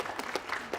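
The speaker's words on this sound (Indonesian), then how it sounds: "Tepuk tangan dong untuk peserta-peserta kita." An event audience breaks into brief applause, a short burst of scattered, fairly close claps.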